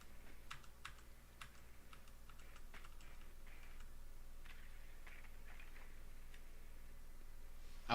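Rapid, uneven keystrokes on a computer keyboard clatter continuously at low level over a steady background hum, with no voices.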